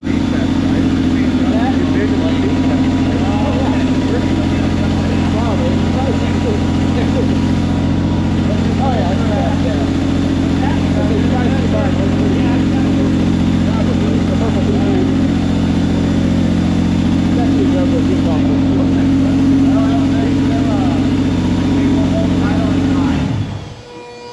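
A tuned car engine on a manifold, running on C85 fuel, drones steadily and loudly for the whole stretch while its idle is adjusted, then cuts off at the end; voices talk over it.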